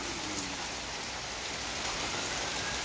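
Rain falls in a soft, even hiss of drops, continuous and fairly quiet throughout, with no talk or other sounds standing out.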